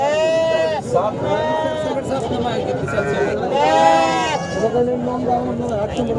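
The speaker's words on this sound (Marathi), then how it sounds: "चला तर पाहूयात शेळी मेंढी बोकड बाजार" Sheep and goats bleat repeatedly at a crowded livestock market in Sangola, loud nearby cries overlapping with one another above a constant murmur of people talking in the background.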